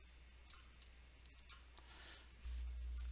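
A computer mouse clicking on a drawing tool in a form application, a few sparse, faint, sharp clicks over quiet room hum.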